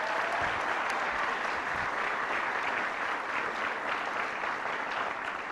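A studio audience on an Indonesian television show applauds a guest at length, with loud, dense, even clapping that fills the whole stretch.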